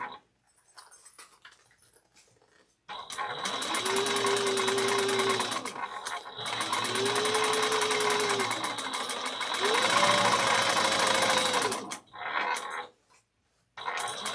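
A sewing machine stitches a backpack in three long, loud whirring runs separated by brief pauses, its motor pitch rising and falling with each run.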